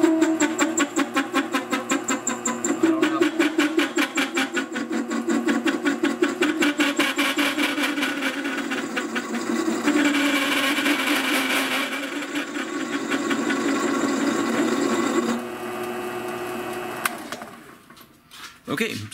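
Wood lathe running at about 312 RPM with an off-center workpiece, giving a loud, steady mechanical whir with a rapid rhythmic wobble that runs close up for about fifteen seconds, then winds down.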